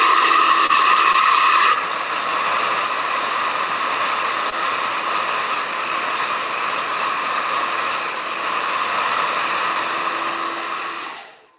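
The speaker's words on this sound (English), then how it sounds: "I'm going to blow dry this and give it one more coat of white." A hair dryer blows steadily and loudly for about eleven seconds, drying acrylic paint, with a slight shift in pitch early on before the airflow cuts off at the end.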